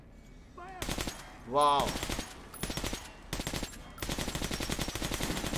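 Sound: gunfire from a gun in the video game Metro Last Light Redux

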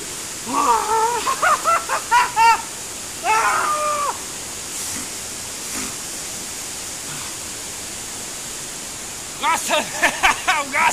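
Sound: Šum waterfall, largest stream waterfall in Slovenia

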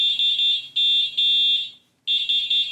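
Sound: horn of a three-seater e-bike

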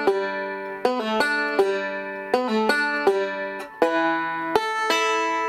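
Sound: bluegrass banjo playing Salt Creek, measures four and five

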